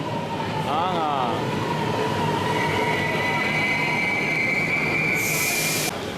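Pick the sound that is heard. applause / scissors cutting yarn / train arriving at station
train arriving at station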